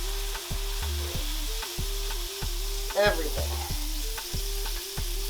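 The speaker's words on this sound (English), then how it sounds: "Now we're ready to put in our steak." A Wagyu ribeye steak searing in a hot pan, sizzling steadily under regular rhythmic thumps and a brief crackling burst, with a single spoken word.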